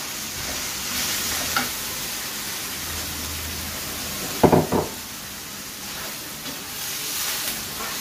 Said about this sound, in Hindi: हमारा जो चिकन है तकरीबन फ्राई हो चुका है